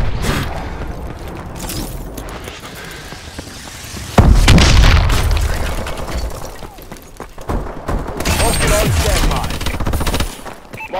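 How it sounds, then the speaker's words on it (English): Missile strike explosions in a Call of Duty-style shooter, with a sudden heavy boom around the middle followed by rumbling blasts, scattered gunfire and clattering debris continuing to the end. "Friendly missile strikes incoming."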